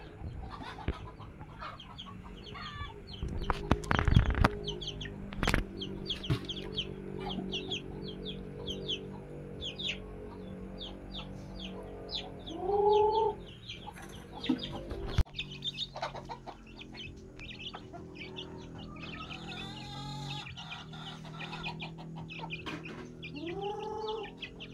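Chickens cluck and chirp intermittently at moderate distance, with scattered bird calls and occasional sharp knocks in the background.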